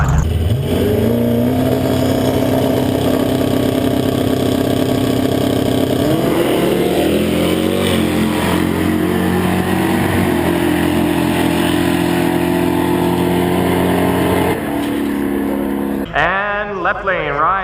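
Two big, heavy Dodge cars, one blue and one flat black, drag racing at a no-prep event, engines roaring loud and sustained side by side before a shift and a fading pass, with a commentator talking over them.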